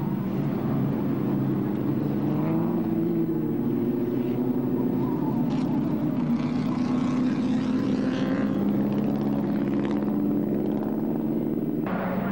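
Vintage racing cars such as a Bugatti pulling away at the start of a Vintage Sports Car Club Itala and Lanchester Trophy race at Silverstone, a loud sustained blend of engine drone and roar that swells and fades as cars pass.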